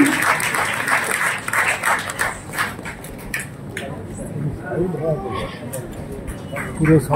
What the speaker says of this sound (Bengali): আপনারা করতালি দেবেন এই আশা রাখি।